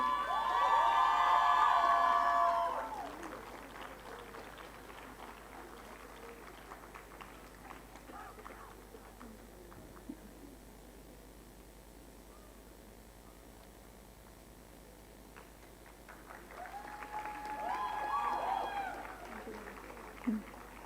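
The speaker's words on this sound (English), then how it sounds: "A huge round of applause for these students." Cheering and shouting from an audience at a public health conclave, a loud burst at the start that fades into quieter crowd murmur and returns near the end.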